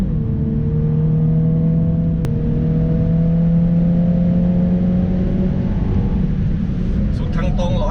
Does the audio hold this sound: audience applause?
no